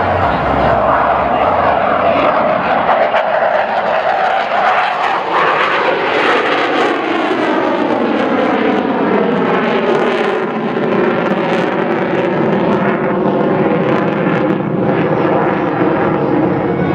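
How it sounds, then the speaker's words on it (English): A military jet roars through a high-speed pass near Mach 1 at a Miami Beach air show, a loud, continuous engine blast that sweeps across with a shifting, phasing tone as it passes, with no voices over it. "setting up for the high-speed pass. The pilot will approach it nearly 1 time the speed of sound, or Mach 1"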